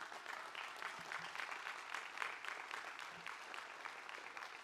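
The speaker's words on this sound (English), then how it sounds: "If we could give a round of applause to the folks that helped pull all this together today" Steady applause from a commencement crowd at a university arts and sciences graduation ceremony, dense even clapping sustained throughout at moderate distance with no voices over it.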